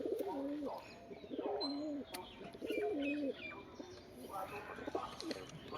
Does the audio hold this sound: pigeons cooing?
yes